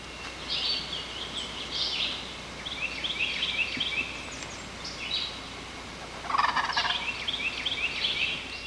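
A wild turkey gobbles outdoors, sending out several loud, rattling bursts one after another over a steady hiss of background noise, with faint bird chirps between them and no voices.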